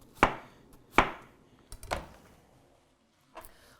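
A knife chopping through watermelon on a cutting board, with four distinct, close thuds spaced about a second apart and a brief quiet gap before the last one.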